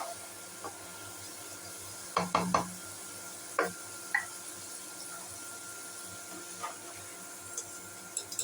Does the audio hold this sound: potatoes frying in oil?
yes